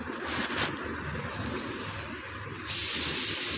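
A pressure cooker cooking rice in a home kitchen releases steam with a soft, steady hiss that suddenly grows into a sharp, loud, continuous whistle near the end.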